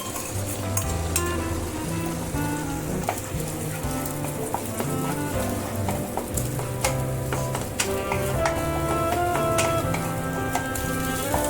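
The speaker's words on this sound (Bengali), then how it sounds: "কড়াইতে তেল দিয়ে দিয়েছি, 1 চামচের মতো ডিমটা দিয়ে দিচ্ছি" Steady sizzling of a spoonful of egg frying in hot oil in a wok, with occasional sharp crackles and spatters throughout.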